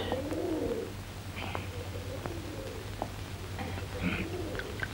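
Pigeons coo softly and repeatedly against a low background hum, with a few faint chirps mixed in.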